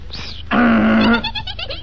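A performer in a 1944 wartime radio comedy imitates a donkey's bray with the voice, one loud, strained honk lasting about a second, followed by a shaky trailing bleat.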